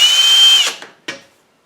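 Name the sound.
power drill drilling a hole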